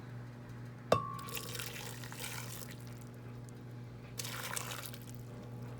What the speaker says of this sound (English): We're gonna add some of the water that we boiled. We're gonna add some of it into our blender.